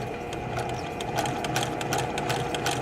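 A sewing machine stitches a quilt seam, a close, steady, rapid mechanical chatter with regular needle ticks running continuously.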